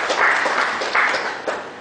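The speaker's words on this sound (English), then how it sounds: "Big round of applause for them also." Attendees at an audit reports seminar give the presenters a round of applause, a steady, moderately loud wash of clapping with slight swells throughout.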